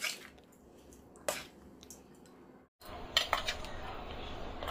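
Raw prawns are mixed by hand in a bowl with mild red chili powder and salt, giving wet squelches and light clinks against the dish. The sound comes in two bursts separated by a brief silence.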